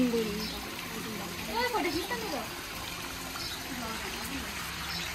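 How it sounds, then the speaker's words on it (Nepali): Water runs steadily from a spout at Arjundhara temple, a continuous trickling and splashing close by, with people talking over it. "आफै पानी आउँदैछ"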